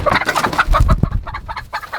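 Chickens cluck loudly and close by inside a coop on a farm, a steady busy run of hen calls filling the whole moment with no talk over it.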